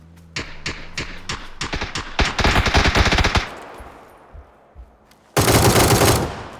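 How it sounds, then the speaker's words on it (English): Gunfire in PUBG on the Erangel map: quick single shots build into rapid automatic bursts, then fade into a quiet stretch before another loud, sustained burst of fire near the end. "I knew somebody was shooting in the background"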